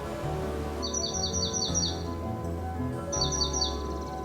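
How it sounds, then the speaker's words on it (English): A bird repeatedly chirps in quick bright bursts of five or six notes, two separate runs with a pause between, close and clear over a steady low background hum. "this bird who is trying to hog all the attention from my YouTubers"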